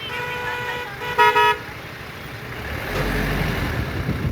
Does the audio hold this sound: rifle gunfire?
no